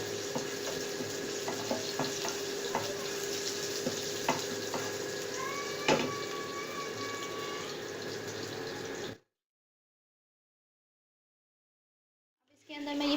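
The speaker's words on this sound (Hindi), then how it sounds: "लहसुन के जवों को हल्का सा सौटे करेंगे।" Finely chopped garlic cloves sauté in a pan with a steady, close sizzle and occasional stirring clicks for about nine seconds before the sound cuts out.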